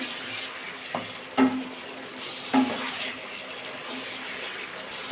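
Mixed winter vegetables being stirred in a pan with a little sugar, a soft wet bubbling hiss broken by two sharp clinks of the spoon against the pan, no talk.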